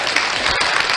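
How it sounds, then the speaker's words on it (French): Studio audience applause at a Guinean music talent show: a dense, steady wash of many hands clapping, loud and close, lasting about a second with no voices on top. "Des applaudissements d'abord."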